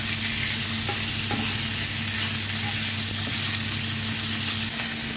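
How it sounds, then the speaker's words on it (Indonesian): Seasoned chicken is stir-fried in a pan, giving a loud, steady sizzle with scraping and stirring sounds throughout and no talking. "aku mau oseng-oseng dulu ayamnya ya teman-teman yang udah kita bumbuin"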